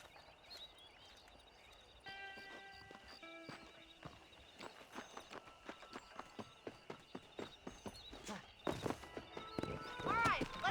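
Horse hooves in the video game Red Dead Redemption, steady clip-clop strides quickening into a gallop with a whinny near the end, close and rhythmic, while someone speaks and game music plays underneath.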